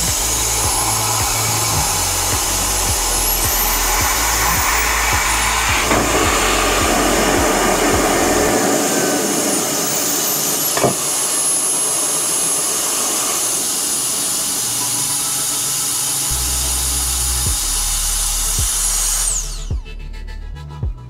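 A KEELAT electric turbo fan running at high speed gives a loud, steady rushing whir of air, holding constant for about twenty seconds before cutting off abruptly at the end.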